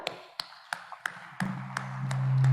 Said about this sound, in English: Should we give an applause to the panel?